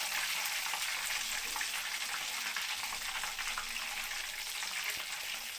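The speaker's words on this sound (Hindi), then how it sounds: "हमारी दूसरी फिश भी तैयार हो गई है, फ्राई हो चुकी है। अब निकालते हैं इसको।" A whole fish fries in hot oil in a Pakistani-style fish fry, a steady, close, bright sizzle and crackle with no pauses or voices.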